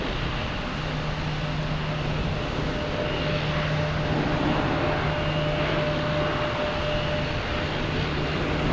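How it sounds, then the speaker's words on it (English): A JetBlue airliner arriving from Las Vegas lands at Boston Logan Airport, its engines a constant, broad roar with a faint steady whine running through it, heard from a distance with no talking over it. "JetBlue coming in from Las Vegas."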